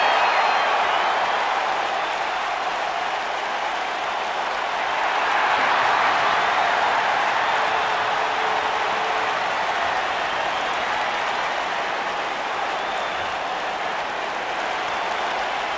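Steady roar of an arena crowd cheering in the WWE 2K19 wrestling video game as Kalisto enters the ring for a cruiserweight championship match, a continuous loud wash of noise with no distinct chant rhythm.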